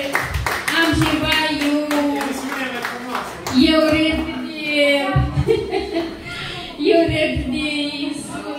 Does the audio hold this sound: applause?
yes